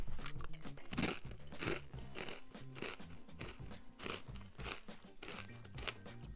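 Miss Vickies Ristoranti potato chips crunch loudly between the teeth in a quick run of close, crisp bites and chewing, with no talk over them.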